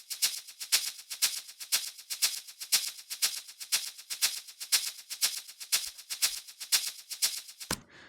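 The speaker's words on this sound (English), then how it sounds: "next up we've got shakers, a right shaker and a left shaker." Programmed shakers panned right and left rustle in a steady, fast sixteenth-note pattern with slightly varying velocity, bright and hissy, continuing evenly for about eight seconds before stopping abruptly, with no talking.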